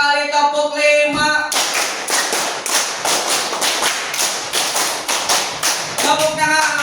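A classroom group claps a counted rhythm together, many loud, sharp claps in repeated sets, with voices talking just before and after.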